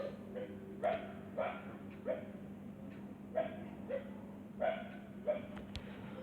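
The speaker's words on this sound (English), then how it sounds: "wait, there's a dog barking." A dog barks in the background, roughly eight separate barks at a steady, spaced rhythm, faint and distant beneath a constant low hum.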